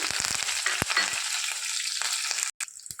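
Cumin, dried red chillies and curry leaves crackling in hot oil for a tempering: a loud, steady, close hiss with a burst of pops near the start and a brief cut-out near the end.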